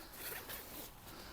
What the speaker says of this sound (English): A nice heavy duty access zip with plastic Velcro tabs along here.